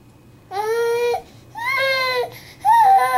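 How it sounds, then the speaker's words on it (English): A baby whines and cries in three drawn-out, wavering bursts separated by short pauses, close and fairly loud, with a faint low hum underneath. "no one wants to hear you whine"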